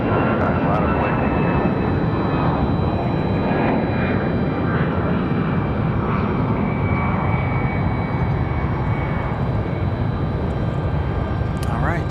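Spirit Airlines jet on the runway at Raleigh-Durham International, departing on runway 23 left for Fort Lauderdale, a loud continuous engine rumble and roar with faint voices underneath.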